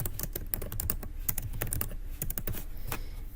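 Rapid, steady clicking of fingers typing on a computer keyboard, close and fairly loud, with irregular keystroke rhythm throughout and no voices.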